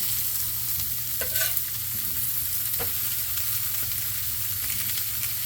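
Smash burger patties and onions sizzle steadily on a hot griddle, a dense, even frying hiss with a couple of faint utensil clicks, close up and with no talking.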